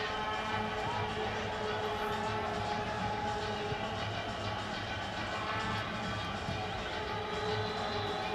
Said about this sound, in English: Crowd noise rising in the level in the background, as you can hear